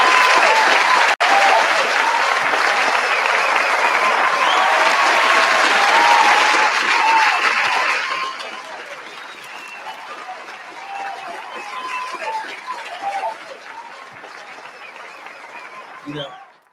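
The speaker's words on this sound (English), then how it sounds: "I'm gonna give myself an applause." Loud, dense audience applause and cheering at a comedy show, sustained for about eight seconds and then easing into lighter clapping and murmuring before it cuts off.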